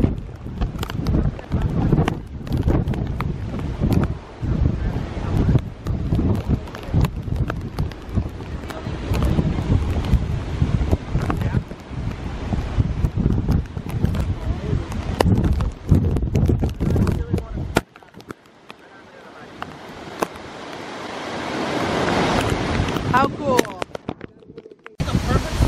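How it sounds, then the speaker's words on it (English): Strong wind buffets the microphone at Eagle River Falls in cold, rainy weather, with loud gusty rumbling, and a voice speaks under the wind before it briefly drops out and surges again. "It's kind of raining, mainly windy"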